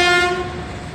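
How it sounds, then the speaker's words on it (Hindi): A train on a railway line beside a slum settlement sounds its horn, a loud sustained tonal blast that fades slightly as it carries over rumbling wheels, no talking. "ट्रेन देख लीजिए, ट्रेन कैसे जा रही है।"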